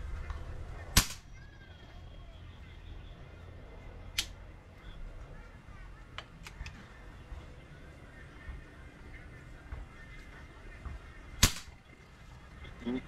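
An air rifle fires pellets at a 25-yard target outdoors: three sharp, isolated cracks spaced well apart, with a few fainter clicks between them over quiet background.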